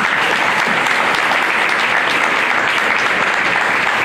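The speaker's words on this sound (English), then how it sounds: "I want to give another round of applause if we could for Ezra," A live audience at a public debate gives a loud, continuous round of applause, dense clapping that holds steady without a break for several seconds.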